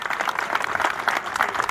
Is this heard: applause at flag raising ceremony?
yes